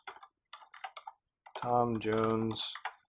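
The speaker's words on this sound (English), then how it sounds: "And I didn't mean to type all of that." Keys tapped on a computer keyboard while filling in an HTML form, short bursts of clicks in quick groups, followed by someone talking over the end.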